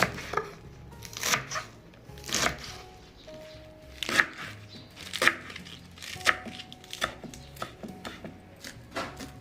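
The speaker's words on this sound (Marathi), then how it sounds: "असं बारीक चिरून घ्यायचं" Spinach leaves finely chopped with a knife on a board, a steady series of crisp close-up cuts at an uneven rhythm, with no talk.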